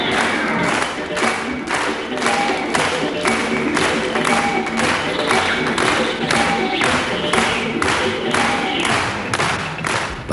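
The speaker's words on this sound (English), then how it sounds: "Their act receives the rhythmic applause that is the sign of a Soviet audience's highest approval" A large Soviet circus audience claps in unison after an act, a loud, steady, rhythmic beat of many hands that carries on throughout, with a faint crowd murmur underneath.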